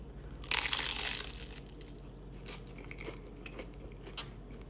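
A loud, crisp crunch as someone bites into a crunchy crab rangoon drenched in sweet chili sauce, followed by fainter, softer chewing crackles up close.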